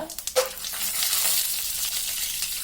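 Chana dal, urad dal, cumin and cashews frying in hot oil for coconut rice bath, a steady close sizzle after a few quick scraping stirs at the start, no voices.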